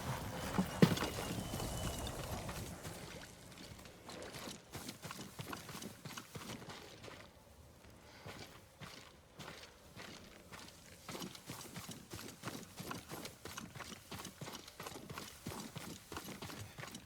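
Horse hooves clip-clop in a steady walking rhythm through most of the stretch, near and fairly loud, in the samurai game Ghost of Tsushima, with a brief soft rustle at the start.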